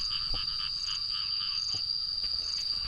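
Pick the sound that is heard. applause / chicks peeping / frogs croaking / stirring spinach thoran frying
frogs croaking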